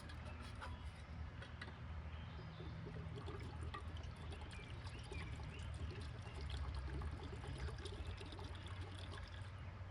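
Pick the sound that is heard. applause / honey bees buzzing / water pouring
water pouring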